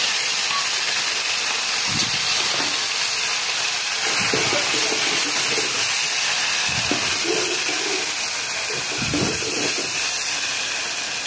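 Garlic and chili paste hits hot oil with mustard seeds, giving a steady, bright hiss of sizzling with a few low bubbling pops throughout.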